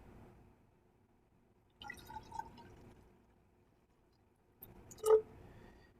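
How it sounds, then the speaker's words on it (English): Distilled water poured into a graduated cylinder, two short bursts of quiet trickling and splashing separated by silence, heard close in a still room. "See if I can pour 100 milliliters in there."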